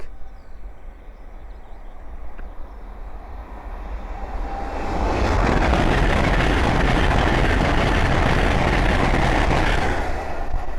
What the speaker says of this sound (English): the next train to pass by is a Hull train 800 from London King's Cross to York